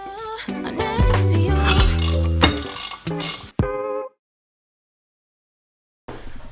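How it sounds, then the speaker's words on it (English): A ratchet wrench loosening rear damper bolts and the nuts joining the prop shaft to the differential on a former rally BMW, close, loud repeated clicking and metallic turning, then a pause before it resumes. "Now let's loose the bolts for the rear dampers and the nuts connecting the prop shaft to the differential."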